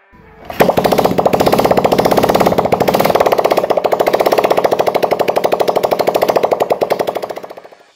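A motorcycle fitted with a racing exhaust idles and revs, giving a loud, harsh, rapidly pulsing rattle close by that runs steadily for several seconds before cutting off.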